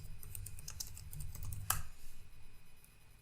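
Quiet keystrokes on a computer keyboard tap out a short phrase in a rapid, irregular burst, ending with one sharper key press, over a low background hum with no one talking.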